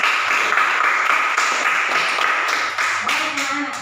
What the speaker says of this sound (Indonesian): Aplaus untuk yang sudah berikan jawaban